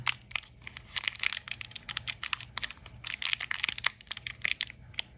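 A tiny plastic bag crinkles and crackles as it is worked out of the back of a diecast toy van, giving close, dense, irregular rustling bursts with no talking.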